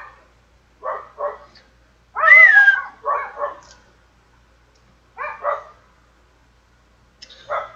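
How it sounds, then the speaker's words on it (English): Dogs barking close by and loud: short bursts of sharp barks in small clusters with quiet gaps between, plus one longer, whining yelp in the middle. "These fucking dogs."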